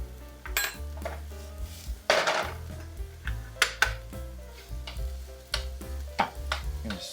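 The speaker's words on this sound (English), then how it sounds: "Stir this around here" Food stirred around a pan during a keto crock-pot cook, a series of distinct clinks and scrapes of utensil against pan at an uneven rhythm over a faint sizzle, close and fairly quiet, with no talking.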